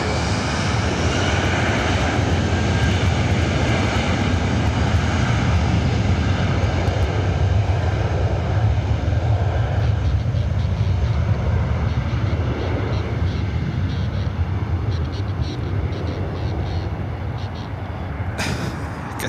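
An EVA Air jet comes in to land on runway 24 right at LAX, a loud, steady broadband engine roar that holds for the whole stretch and eases slightly near the end.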